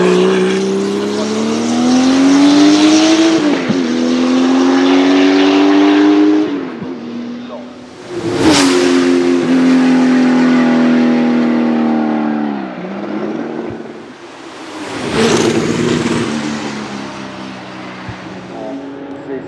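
A 1977 Porsche 935 Turbo race car on a track, its loud engine note rising and falling through repeated gear changes with sharp shifts, passing close, while a commentator talks over it.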